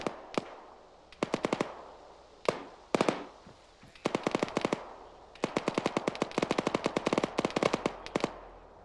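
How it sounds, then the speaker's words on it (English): Machine gun fire in ArmA 3: a series of rapid automatic bursts, some short and some long, with sharp single shots between them. The bursts grow denser and longer toward the end, moderately loud, with no talking. "The worst thing is I don't know if that's shooting at us."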